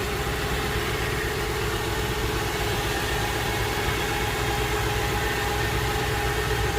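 A Ford truck with a 4.6L engine idles smoothly and evenly after its spark plugs are replaced, a steady, close mechanical hum with no talking.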